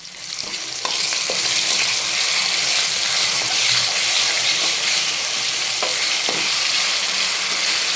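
Gongura chutney frying in hot oil as a tempering with onion, giving a steady loud sizzle throughout with occasional stirring scrapes, no talking.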